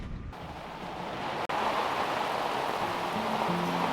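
Steady rain hisses continuously, a dense wash of falling water with a brief dropout partway through and faint low tones near the end.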